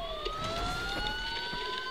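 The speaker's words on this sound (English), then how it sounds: "Sirens. The police." Police sirens in the Batman: Arkham Asylum video game wail faintly in the distance, steady rising tones sustained over a quiet background.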